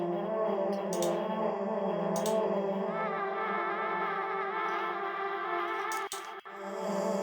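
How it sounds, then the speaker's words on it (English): Sustained granular-processed vocal sample forming a shimmering, smeared pad with stacked tones, shifting up an octave partway through, steady and moderately quiet, with a few faint airy ticks on top. "I just had this vocal sample that I liked, and I put this in the granulizer"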